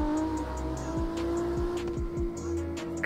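A Toyota Mark II in the CarX Street driving game growls at a steady drone while drifting, with repeated gear-shift dips in pitch and faint tire noise, close and continuous with no talk.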